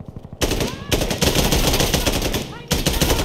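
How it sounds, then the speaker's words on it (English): Rapid automatic gunfire rattles in the tactical shooter Insurgency Sandstorm, loud sustained bursts broken by a brief pause, then firing resumes. "I hear gunfire downstairs"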